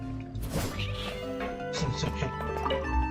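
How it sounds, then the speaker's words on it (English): A cat meowing in Genshin Impact, a short tonal cry heard under game music and overlapping character speech. "Hey, it's the cat. Oh, hello, cat."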